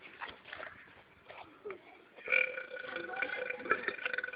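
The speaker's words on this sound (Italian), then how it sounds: "Per caso voi fate rutti?" Burps from Italian friends in a casual burping contest, a few short guttural eructations, the loudest one coming after a couple of seconds, mixed with background chatter and movement.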